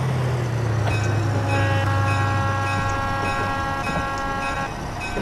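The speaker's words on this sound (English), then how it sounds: "The creaking noises, that's just the actual engine itself, or the car." Alco S2 locomotive in Train Simulator 2020, a steady rumbling rail drone with a low hum and sustained higher tonal creaks and squeals layered over it, close and continuous.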